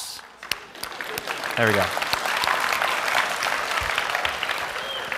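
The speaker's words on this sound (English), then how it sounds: "Claps." A college chapel congregation bursts into applause, building quickly into a steady, full round of clapping that holds for several seconds after a brief remark from a man at the front.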